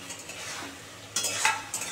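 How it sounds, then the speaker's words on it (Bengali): Fried paneer is tipped into a spicy Manchurian masala and stirred, giving a soft sizzle and then a louder burst of scraping and spatula clatter. "এই যে দিয়ে একটু নাড়াচাড়া করে নিলে একদম রেডি।"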